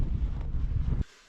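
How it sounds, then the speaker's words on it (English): Strong wind buffets the microphone on a hilltop, a loud low rumbling roar for about a second that then cuts off abruptly to quiet. "Up here the wind is crazy."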